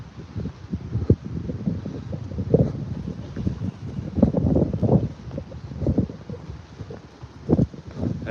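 Wind blowing outdoors straight into a microphone, gusty low buffeting and rumbling that surges and fades irregularly throughout, loud and close.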